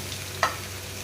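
Okra frying in a pan gives a soft, steady sizzle, with one brief scrape or stir sound partway through and no voices.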